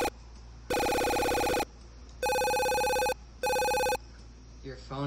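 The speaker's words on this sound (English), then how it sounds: "Your phone is ringing." A telephone rings in three loud, steady bursts of electronic bell tone separated by short pauses, with faint background noise between rings.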